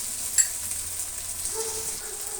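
Garam masala, chilli powder and turmeric fry in hot oil for cabbage gobi fried rice, giving a soft, steady sizzle with a faint stir near the start.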